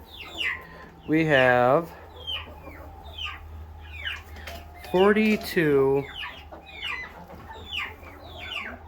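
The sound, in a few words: chickens clucking in a coop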